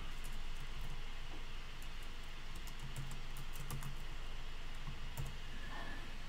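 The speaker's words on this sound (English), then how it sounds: "I just go ahead and type in free Drake type beat." Fingers type a search into a computer keyboard, a quick scattered run of light clicks close by over steady background noise, with no speech.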